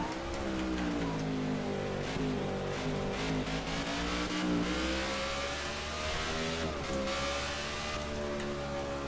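A NASCAR stock car in the NASCAR '15 video game at Sonoma Raceway, its engine revving loudly and continuously, pitch rising and falling with the throttle through the turns, with no other sounds over it.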